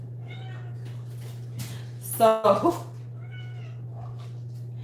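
A kitten gives a short burst of sharp, close meows in the middle of a steady low electrical hum, with fainter chirps around it and a brief word spoken.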